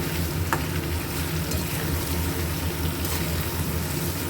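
Dry-style chicken sizzling in a pan after a little water is added, producing a loud continuous close hiss and bubbling fry with occasional stirring knocks and no voices.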